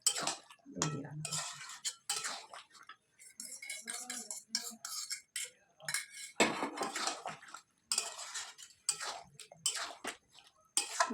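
Chicken in creamy yogurt is stirred in a pot, with a spoon clinking and scraping against the metal in quick, uneven strokes close by, with short gaps between bursts and no talking.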